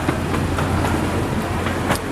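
A gasoline-engine amusement park train ride rolls through the woods at night, a steady rumbling engine drone with rhythmic clicks and clatter from the wheels, loud and continuous.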